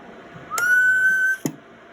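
A single steady human whistle, held as one sustained tone for under a second, used as a test signal through an amplifier during car audio box tuning, with a sharp click at its end.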